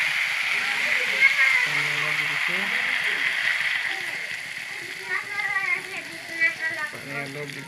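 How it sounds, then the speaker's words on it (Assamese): Water is added to a frying pan of banana flower curry cooked with potato and meat, giving a sizzling, bubbling hiss with steady crackle. Intermittent speech is heard over the frying. "পানী অলপ দি দিছোঁ।"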